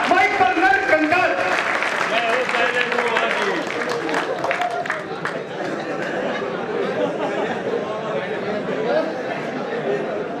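Loud applause and cheering from a crowd at a Hindi kavi sammelan poetry festival at the Kishanpur fair, strong at first and then settling into a steady clapping roar with crowd chatter, and a voice over it near the start.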